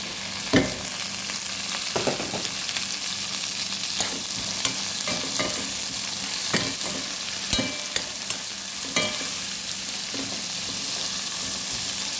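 Mixed vegetables stir-frying in a pan for a Filipino dish: a continuous close sizzle punctuated by sharp scraping and tapping clicks from stirring at irregular intervals, with no talking.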